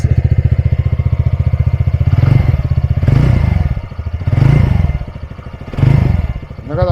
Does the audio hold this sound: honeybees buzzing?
no